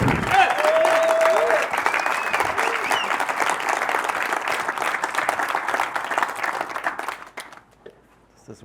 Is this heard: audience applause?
yes